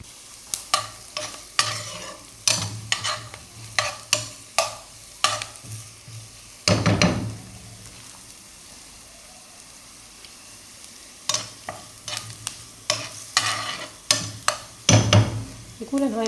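Onions with vermicelli and raisins fry softly in a pan while a spoon knocks and scrapes in repeated stirring strokes, pausing briefly midway and then resuming.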